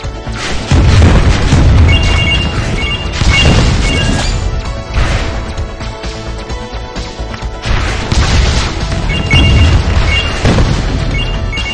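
Loud, repeated booms and crashing blasts from an erosion rocket in a mobile flying game, several heavy impacts rolling one after another with bright synthetic game effects over them.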